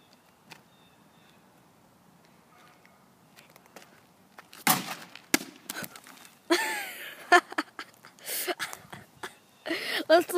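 A baseball bat whacks and smashes a Coke bottle in a series of sharp, loud impacts and crunching cracks clustered in the second half, preceded by quiet handling noises, with people talking around the hits.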